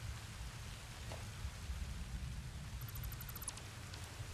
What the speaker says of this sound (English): It's raining. It's nice.